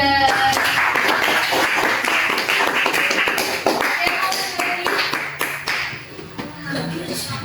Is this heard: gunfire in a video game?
no